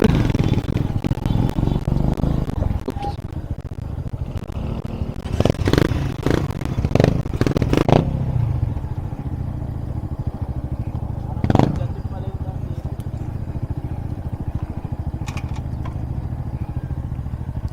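Kawasaki W175 motorcycle riding off-road up a steep hill, its engine rumbling steadily throughout with clattering bursts and scrapes in the middle as the bike climbs, and voices talking over it.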